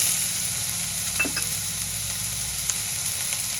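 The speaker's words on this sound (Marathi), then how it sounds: "थोडे बीटचे तुकडे आणि कांदा घालूया आणि छान परतून घेऊया." Mixed vegetables for a winter soup, including cabbage, tomato, broccoli and stems, peas, fresh turmeric, beetroot pieces and onion, sauté in a pan with a loud, steady hiss of frying and a few light scrapes and clinks, no voices.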